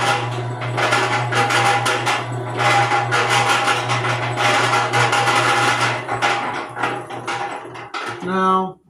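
A Harbor Freight 3-1/2 cubic foot cement mixer with a 1/6 horsepower motor runs loud and steady, with a low motor hum and rattling clatter from the turning drum. It winds down to a stop near the end.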